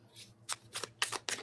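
A deck of tarot cards being shuffled nearby, giving several quick crisp riffling bursts of rustling paper in an uneven rhythm, with no talking.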